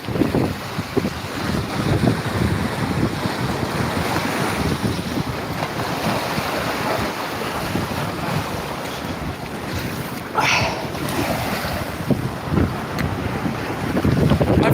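Waves wash in and drain back out at a boat ramp, a steady close rush of surf and churning water mixed with gusty wind noise buffeting the microphone throughout.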